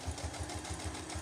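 A sewing machine stitches fabric in a fast, even mechanical rhythm, quiet and close, each needle stroke a soft thump repeating several times a second.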